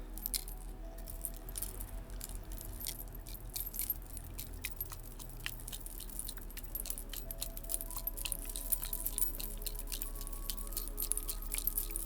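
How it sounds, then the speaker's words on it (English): Tiny crystals rattle and tick inside a container for a reiki ASMR session, a steady close, quiet stream of fine clicks and gritty patter with no talking. "inside you can hear some beautiful tiny crystals"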